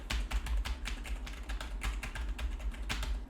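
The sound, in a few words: typing on a computer keyboard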